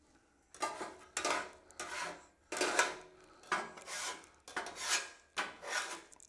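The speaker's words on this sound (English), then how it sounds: "Don't forget to clean your griddle, especially when you're doing cheese" A metal scraper rasps across a Blackstone flat-top griddle, cleaning off baked-on cheese after cooking cheesesteaks, in about seven firm back-and-forth strokes of even rhythm, close up and with no talking.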